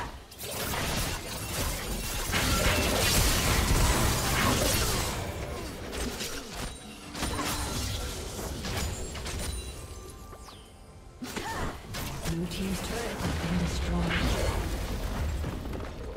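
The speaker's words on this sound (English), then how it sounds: "Blue Team's turret has been destroyed." A turret collapses in League of Legends, a loud crashing, shattering burst with rumbling debris in a dense game mix, followed by an announcer voice.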